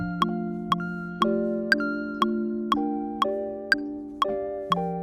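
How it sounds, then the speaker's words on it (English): Synthesized bell-like keys play a slow sequence of struck notes, about ten evenly spaced chimes, each ringing out and fading before the next. "this is like a keys, but it's the bells, which I like a lot"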